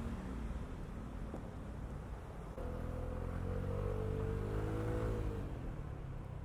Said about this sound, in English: once you get going, the engine responds very well